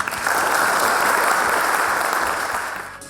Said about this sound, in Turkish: Şimdi Sayın Büyükelçimiz Yu Huyang'ı alkışlarız ve küsre davet ediyoruz.